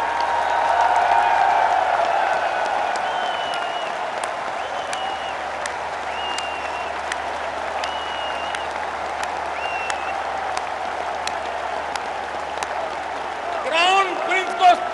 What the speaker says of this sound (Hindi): तालियों की गूंज से क्राउन प्रिंस का अभिनंदन कीजिए।